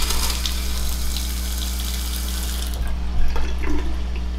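A household faucet runs steadily, a constant close hiss of flowing water that thins out near the end, with faint clinks in the background.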